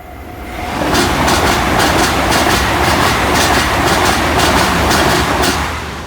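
The Flying Scotsman steam train rushing past a level crossing, a loud close roar that swells within a second and holds with rhythmic clickety-clack of wheels over rail joints.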